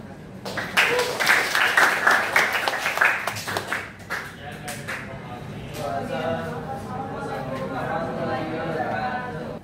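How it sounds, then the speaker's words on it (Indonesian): Classroom applause for the first group of student presenters: a burst of many hands clapping for about four seconds, then fading into voices talking in the room. "udah bagus untuk kelompok 1, tepuk tangan"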